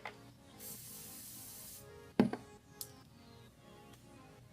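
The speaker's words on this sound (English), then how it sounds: "So I just like to spray it on my brush." Makeup setting spray is misted onto a brush in one sustained spritz, followed by soft brushing and tapping sounds close by.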